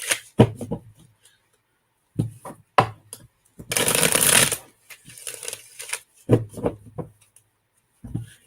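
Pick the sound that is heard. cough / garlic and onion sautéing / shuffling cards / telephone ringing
shuffling cards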